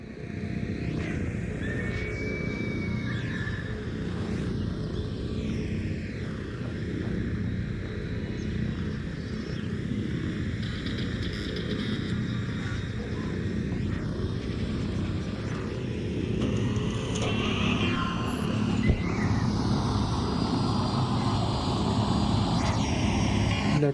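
Large drone flying overhead in ARC Raiders, a continuous droning engine hum with whining rotor tones that rise and fall for the whole stretch, steady and fairly loud.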